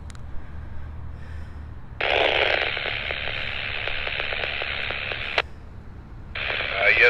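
A TidRadio H8 ham radio handheld carries a scratchy transmission through a repeater. Bursts of static hiss cut in and drop out, with a garbled voice coming through the noise.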